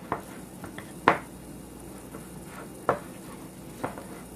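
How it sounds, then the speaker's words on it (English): A utensil stirs and scrapes a thick peanut butter and sugar mixture in a pot, with a few sharp clinks against the metal and soft scraping between them, close and fairly quiet. "Scrape the bottom, make sure you get the sugars in the bottom."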